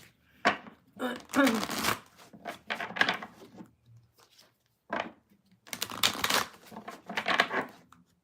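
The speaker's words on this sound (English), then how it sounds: "Sorry, still shuffling and reading comments." Tarot cards shuffled in bursts of rapid riffling and slapping, close and fairly loud, separated by short pauses.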